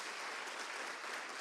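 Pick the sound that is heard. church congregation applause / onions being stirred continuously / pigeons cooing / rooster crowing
church congregation applause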